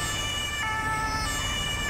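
Wailing ambulance siren from the video game GTA 5, near and steady throughout, with sustained tones layered over low road rumble.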